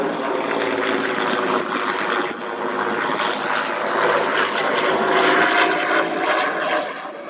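A P-63 King Cobra propeller fighter roars past at a World War II airshow, its Allison piston engine droning loudly and steadily, swelling slightly before easing off at the end.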